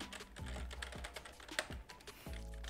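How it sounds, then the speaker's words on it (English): Quick bursts of keystrokes on a computer keyboard entering a configuration file name during a Microsoft Project install, clicking close and clear in uneven runs with short pauses between them. "So I'm going to type here configuration"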